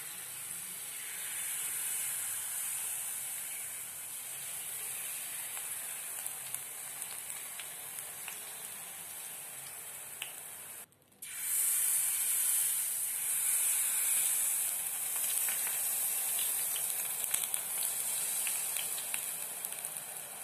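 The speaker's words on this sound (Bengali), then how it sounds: "এগুলো ভাজা হয়ে যাওয়ার সঙ্গে সঙ্গে আমি গরম রসে ডুবিয়ে দিচ্ছি" Freshly fried jalebi dropped into hot sugar syrup give a steady fizzing hiss, broken by a brief pause midway before the bubbling sizzle resumes, close and unaccompanied by voices.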